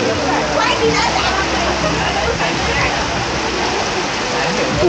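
Strong wind and heavy rain roar steadily and loudly throughout, a dense, unbroken wash of noise with voices speaking over it.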